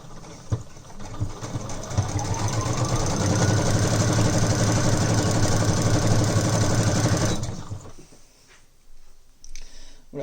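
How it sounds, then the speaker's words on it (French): A sewing machine stitches the full height of a folded tote bag handle, a steady mechanical whir running at even speed for about seven seconds before stopping, followed by quieter handling of the fabric. "je vais coudre l'ensemble de la hauteur"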